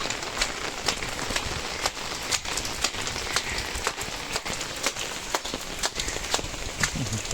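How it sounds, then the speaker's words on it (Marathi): Heavy rain pours steadily on surfaces outdoors on a rainy day, a dense continuous patter with sharp individual drop hits scattered throughout, close and loud, with no talking. "धमाल पाऊस आहे."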